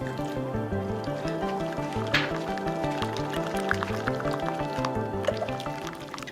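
Lemon juice poured into a homemade Caesar salad dressing, a close liquid trickle with small drips and squishy gurgles running throughout, alone.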